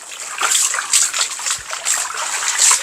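Pork large intestine is rinsed under plain running water after a salt wash, giving a continuous close splashing and trickling with uneven surges and no speech.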